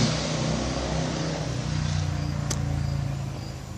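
Motorcycle engines drone steadily in the distance, a constant background hum that fades slightly toward the end.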